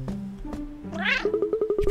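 A white cat in the video game Cat Quest meows twice, the second a drawn-out rising call followed by a rapid series of short, close purring chirps, with no speech over it.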